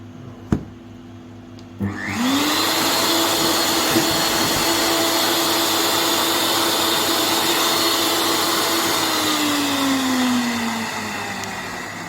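A Waring Xtreme MX 1500 blender motor spins up suddenly and runs with a loud steady whir for about ten seconds, its pitch sagging slightly near the end, following a couple of small clicks.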